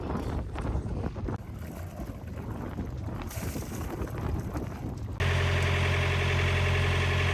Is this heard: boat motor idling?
yes